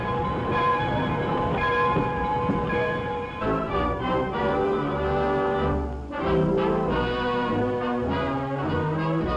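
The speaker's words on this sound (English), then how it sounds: "Into the yards backs the locomotive to pick up the cars." A rumbling locomotive backs slowly into a rail yard with low mechanical churning, clanks and a steady metallic hum, fairly close and continuous, with no voices.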